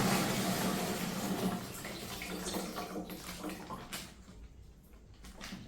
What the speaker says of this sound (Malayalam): അപ്പോൾ നമ്മൾ പാലൊഴിക്കുന്നു അര ലിറ്റർ പാലാണ്